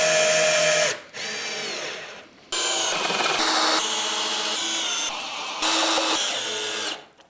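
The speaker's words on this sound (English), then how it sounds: "Now I need to put some screws in here to secure it in place." A power drill drives screws into wood for a door build, with the motor whining in several bursts of one to two seconds each and pitch shifting as the screws bite, close and loud with no talking.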